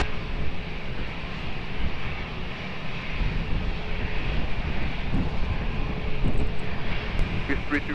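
Aircraft engines drone at Lisbon Airport, a broad, steady roar that holds from start to finish with slight swells, heard from a distance over an airfield.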